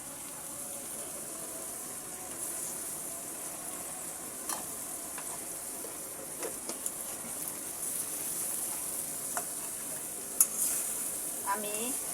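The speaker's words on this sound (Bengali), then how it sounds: "আমি ছোট মাছের সঙ্গে পেঁয়াজ এবং রসুন বাটাটা মিশিয়ে দিচ্ছি।" Small fish are stirred with onion paste and garlic paste in a pan, making a soft, low sizzle with scattered scraping and clinking strokes of the spoon, quiet and close, with no talking.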